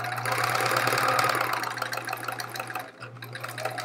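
A sewing machine runs steadily while stitching quilt pieces for a chevron quilt, a continuous close whir with a low hum that eases briefly near the end, no talking.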